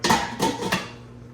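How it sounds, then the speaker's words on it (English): A metal lid clanks onto a pot three times in quick succession, each strike ringing briefly and close, then fading into quiet. "Throw the cover on there."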